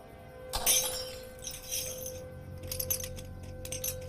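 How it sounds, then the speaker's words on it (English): A drinking glass is knocked over and shatters, a sharp crash with scattered tinkling fragments settling afterward, fairly close and with no voices. "I knocked over my glass"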